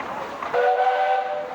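A steam traction engine's whistle sounds at a parade in Sycamore, one sustained clear tone that starts abruptly and holds steady and loud, over a background of crowd and street noise.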